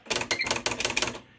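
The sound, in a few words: Smith Corona Spell Right III electric typewriter typing a letter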